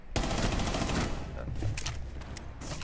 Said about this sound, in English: An AK?